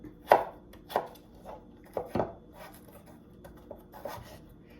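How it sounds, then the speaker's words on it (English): Fresh ginger is diced with a knife on a cutting board, giving several sharp, close chopping taps at an uneven pace with short quiet gaps between them and no voices. "I'm going to dice it up."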